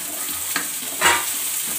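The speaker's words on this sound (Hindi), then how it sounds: "देखिए मेरा प्याज भुना चुका है, ज़्यादा नहीं भूनना है, लाल नहीं करना है" Onion and capsicum frying in a pan for a gravy appe dish, a steady soft sizzle with a brief stir scrape and a louder hiss burst midway, close and alone.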